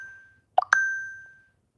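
A phone notification chime: two quick plopping blips followed by a clear ringing tone that hangs and fades over about a second, fairly soft against a quiet room, with no talking.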